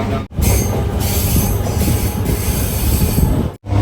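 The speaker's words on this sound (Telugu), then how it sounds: "ఫైనల్లీ వినుకొండ స్టేషన్కి అయితే మన ట్రైన్ అనేది ఎంటర్ అయిపోయింది" A MEMU passenger train rolls into Vinukonda station loudly with a steady rumble and high metal wheel squeal, continuous and close, fading briefly only at the start and end.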